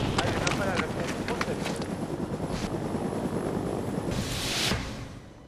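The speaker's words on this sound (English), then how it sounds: "It's the Marine helicopters." United States Marine Corps helicopters thud loudly overhead with fast, steady rotor chopping, a dense roar that swells near the end before easing off.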